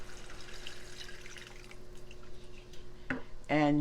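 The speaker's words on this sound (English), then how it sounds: "Put in, it's 3 cups of water." Water poured into a spaghetti pot, about three cups, comes as a brief splashing burst near the end after a stretch of low kitchen hum and faint background sounds.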